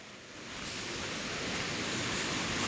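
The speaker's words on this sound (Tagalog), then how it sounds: "Ayan, batis." Mountain stream near the top of a mountain, water rushing in a steady, loud, broadband hiss that swells slightly over the first half second and then holds, with no talk.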